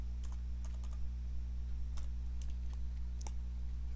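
Number keys tapped on a computer keyboard for an accounting calculation, a quiet run of scattered clicks over a steady low electrical hum, with no talking.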